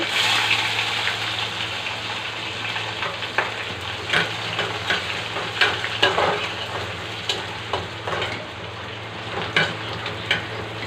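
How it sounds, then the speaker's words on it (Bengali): Onions fry in a pan with curry leaves, a steady close sizzle broken by repeated sharp scrapes and clacks of stirring at irregular intervals, with no talking. "পেঁয়াজ একটু ভেজে নেব"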